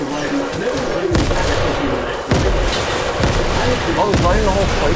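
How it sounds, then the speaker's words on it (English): An opponent fires a gun in the video game Fortnite, with several sharp shots cracking over a dense, loud background, and a person talks throughout. "he's shooting, he's shooting"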